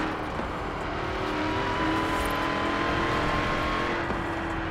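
A Dodge Demon's engine in Forza Horizon 4 drones steadily at high revs, a loud continuous roar holding a fairly even pitch throughout, with no talking.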